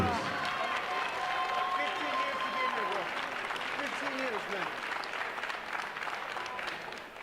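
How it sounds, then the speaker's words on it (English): A crowd applauds two Muay Thai fighters at the Bradenton Area Convention Center in Florida after three rounds, a dense continuous wash of clapping with voices talking and calling out over it. "how about a nice round of applause for both fighters"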